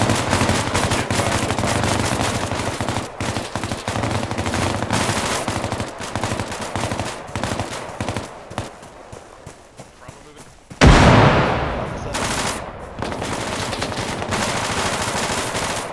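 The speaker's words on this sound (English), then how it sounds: "Machine gun lay into him." Machine gun fire during tactics training, rapid repeated bursts close by with other gunshots mixed in, a short pause, then a loud sharp blast followed by continued firing; voices call out over it.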